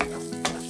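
Eggs frying in melted butter in a frying pan over medium-low heat for scrambled eggs, a steady close sizzle with a brief louder crackle partway through.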